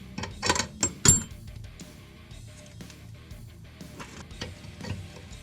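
Wrench loosening fuel rail bolts on a 1970 Dodge Challenger engine, a few sharp metallic clicks and clanks early on, then quieter scattered tool rattles and taps, close by with no talking.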